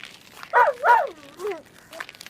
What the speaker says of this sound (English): Timmy pranced in front of the gatepost and barked loudly